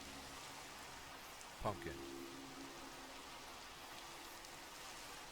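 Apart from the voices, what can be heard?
rain falling in Minecraft video game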